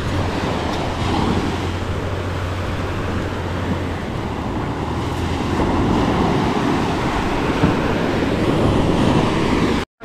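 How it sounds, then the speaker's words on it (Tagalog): Large ocean waves break and roar continuously at a river mouth where shrimp gather, a loud, dense wash of surf with no clear pauses. "masyado malalaking alon din ng baksak"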